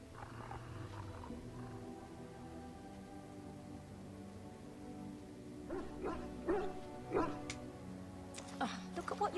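A dog in the video game Dragon Age: Origins barks and yips in a quick cluster of sharp, mid-loud calls over a steady hum of game music and ambience, after a stretch of background sound alone.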